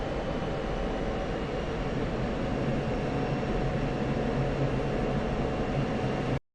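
A steady, loud broadband roar of an F-16 jet engine held at high revolutions on landing approach in the DCS flight simulator, continuous and unchanging with no talk.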